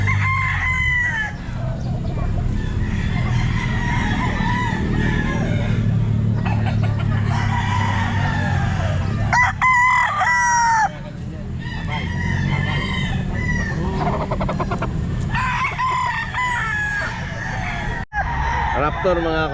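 A stag rooster at a pet market crows repeatedly in loud, close calls with rising and falling strained notes, clucking and other fowl around, and people talking in the background.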